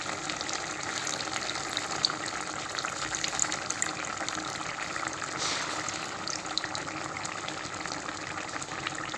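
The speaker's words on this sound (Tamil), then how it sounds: "இப்போ நான் இது கூட வந்து புளி தண்ணி ஆட் பண்ணிட்டு போகிறேன்." Tamarind water pouring into a simmering ripe bitter gourd (kakrol) tamarind curry, puli kulambu: a steady, close splashing gush that runs for about nine seconds, with no talking.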